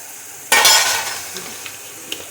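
Onion frying in a pan with ginger-garlic paste, a sudden close burst of sizzle as it is stirred, fading into softer frying with a few light clinks of the utensil.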